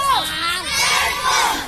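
A group of girls at taekwondo training in Kupang lets out a short, loud, unified shout, a sharp battle cry that rises and breaks into a second burst close to the microphone.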